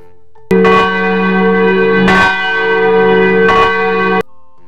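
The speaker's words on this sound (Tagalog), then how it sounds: "Tunog ng kampana ng simbahan." A church bell tolls loudly and close, three evenly spaced strikes with rich ringing overtones that sustain between hits before cutting off.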